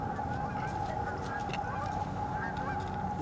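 Geese in Central Park, New York, honk in a steady, overlapping chorus of nasal calls over faint background hum, moderately loud and fairly near.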